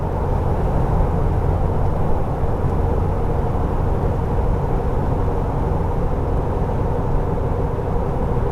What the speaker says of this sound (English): And there it goes with the downshift.